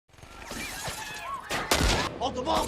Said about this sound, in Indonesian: Terlihat para polisi disambut dengan tembakan dari para mafia Cina.